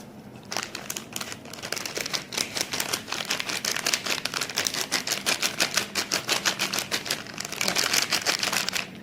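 Chocolate sprinkles pour from a packet onto sweet crispy spiral macaroni in a dense, steady rattling patter, close and continuous, swelling toward the end, with no voices.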